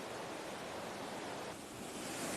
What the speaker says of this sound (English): lots of mini waterfalls where the water's splashing over the rocks